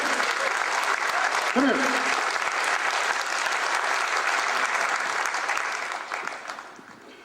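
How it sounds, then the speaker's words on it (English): An audience at a Kansas FFA event breaks into sustained applause that stays loud throughout and tapers off at the end, with a voice briefly heard over the clapping. "give them a big round of applause"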